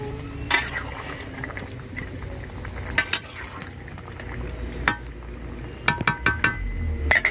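A pot of fish curry with tangra and tilapia, cauliflower and potato bubbles on the stove, a low steady simmer broken by occasional light clinks of a spoon or ladle against the pot.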